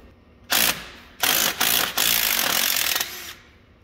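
Stuck studs being loosened on a Yamaha V-Max 700 snowmobile track, heard as several loud, close bursts of rapid ratcheting or impact-driver chatter separated by short pauses.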